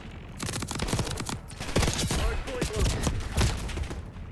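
Gunfire from an AEK-973 rifle in Black Ops 6 comes as dense, repeated bursts with clattering overlapping shots, loud throughout and mixed with game ambience.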